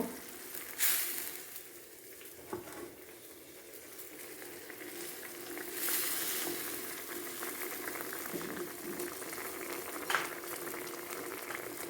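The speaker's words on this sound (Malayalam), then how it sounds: "തിളയ്ക്കുന്നു." Fish curry boiling in a pot, a steady low bubbling simmer running throughout with occasional louder pops and stirring clinks, no voices.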